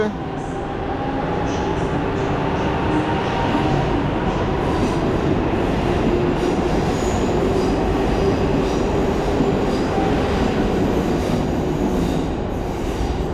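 A Newag Griffin locomotive hauling a train through Warszawa Centralna station, a loud continuous rumble with wheel squeal and rail clatter over about thirteen seconds.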